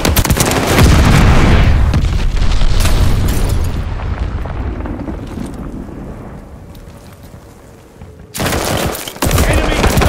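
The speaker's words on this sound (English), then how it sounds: "Got enemy glide bomb on the way!" Enemy glide bombs strike in the video game Call of Duty Vanguard, a dense roar of explosions and gunfire that swells loudly, fades over several seconds and then bursts back in near the end.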